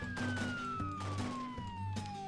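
A police car siren in Roblox Jailbreak wails over a looping game soundtrack, its tone sliding steadily downward as it passes, loud and continuous.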